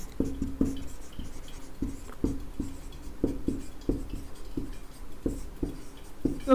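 Chalk or marker writing on a board in a classroom lesson, heard as a series of close, crisp taps and short strokes in an irregular rhythm, with no voice over them.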